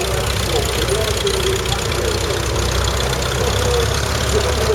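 An old vintage tractor idles at a country show parade ring, its commercial engine giving a loud, steady, continuous low rumble, with a voice talking over it.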